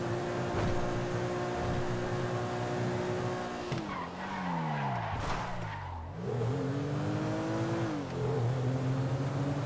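A game car tears through a small town at speed, engine revving hard and rising and falling in pitch while tires skid and squeal, loud and continuous without voices.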